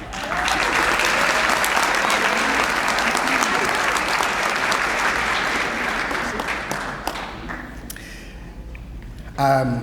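A large audience at a school district retirement celebration applauds the honored retirees in sustained, loud clapping that fades out near the end.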